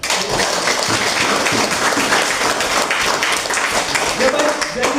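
Students in a classroom applaud during a trigonometry limits lesson; dense, steady clapping fills the room for several seconds, with voices talking over it.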